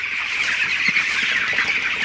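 Broiler chickens crowded in a poultry shed, a dense continuous chorus of chirping and murmuring birds, steady and close with no talk.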